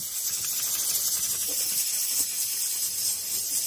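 Tomatoes roast on an open wood fire in a Nepali village kitchen, giving a steady, even hiss throughout with no voices.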